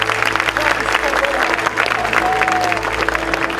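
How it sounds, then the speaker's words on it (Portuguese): A church congregation applauds together for Jesus, a dense, continuous wash of clapping filling the hall at steady loudness, with a low hum and a faint sustained tone underneath. "todos damos a Jesus uma linda salva de palmas"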